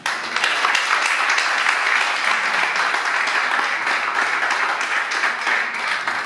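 An audience applauds graduates at a graduation ceremony, with steady, dense applause sustained throughout and no break, filling the room loudly.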